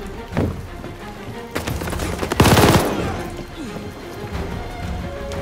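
Machine gun fire in Call of Duty: Vanguard, bursts of rapid shots with a loud burst near the middle amid other game noise, with a voice talking over it.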